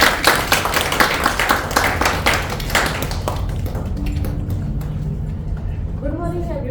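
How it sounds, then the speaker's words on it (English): At a Toastmasters club meeting, an audience claps in a lively round that fades after a few seconds, with voices rising as it dies away. "Big round of applause."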